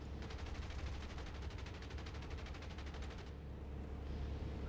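Sustained rapid machine gun fire from an aircraft strafing airfield targets in War Thunder, a dense rattling burst that runs steadily for about three seconds before easing under continuous engine drone.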